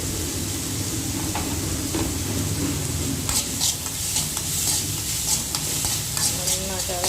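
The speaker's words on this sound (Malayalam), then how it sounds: "നന്നായിട്ട് ഇളക്കി കൊടുക്കാം" Soya egg thoran stirred in a frying pan, a steady sizzle broken by scraping clicks of the spoon that grow busier toward the end, close and clear with no talk.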